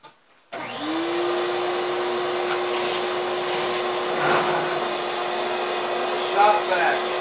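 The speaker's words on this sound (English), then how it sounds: "There's tons of shards of glass in here, so I figure I might as well vacuum it" A shop vac switches on after a short silence and runs at a loud, steady whine, sucking up shards of glass, with a few rattling clatters partway through as debris is drawn in.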